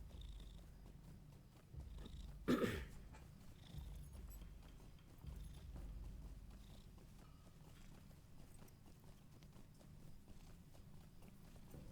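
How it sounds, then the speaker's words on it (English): A black cat purrs in a low, soft, continuous rumble close by, with a brief rustling bump partway through. "Look at the kitty."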